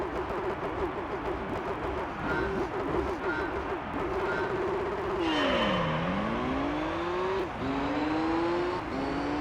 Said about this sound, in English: I also don't know if this car sounds uniquely like a Skyline.